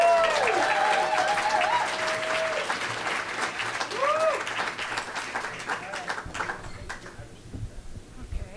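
A crowd at a live local storytelling event in Burlington claps warmly for an introduced speaker, with a few high whistles early on; the clapping is steady, then thins and fades out over the last couple of seconds.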